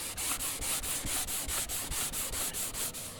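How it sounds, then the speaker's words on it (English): A wooden dulcimer guitar body is sanded by hand with the soft side of a sanding block, giving about a dozen rhythmic, close rasping strokes with no talk. "Hard side won't sand that well."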